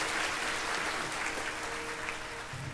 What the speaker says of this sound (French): Applaudissez bien fort Jasmine Gordon